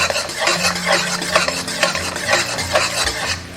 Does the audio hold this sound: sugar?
yes